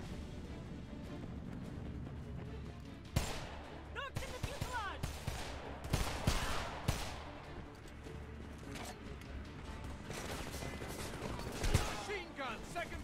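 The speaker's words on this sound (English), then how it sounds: "Machine gun, second floor window." Machine gun fire in a Homefront battle, scattered bursts and sharp cracks breaking out over a steady din, several loud close hits in the middle and toward the end, with speech mixed underneath.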